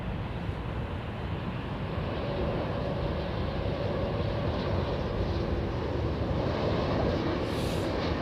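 A KLM Embraer E2 airliner at the airport, a continuous low engine rumble heard from a moderate distance, steady throughout with a faint higher whine near the end.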